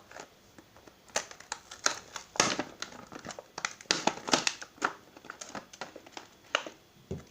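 A tube of glue for slime is opened by hand, with close, irregular crinkling and crackling of packaging in sharp bursts and pauses.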